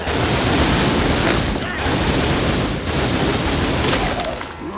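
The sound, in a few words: gunfire from the video game The Typing of the Dead: Overkill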